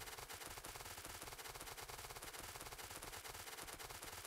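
Rapid, sustained automatic gunfire from the game Factorio clearing trees, a dense mechanical rattle that continues unbroken and fairly evenly from start to finish, heard alone.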